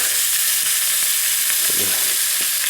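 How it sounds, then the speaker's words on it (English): Bacon sizzles in a frying pan over a gas cooker at a back-country hunting camp, a dense, steady hiss with small pops, loud and close. "We've got bacon in the frying pan."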